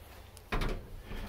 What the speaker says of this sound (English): Let me close this door again.